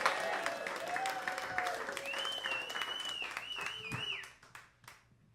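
Comedy club audience applauding and cheering to welcome a comedian to the stage, steady dense clapping with some whoops that fades out toward the end.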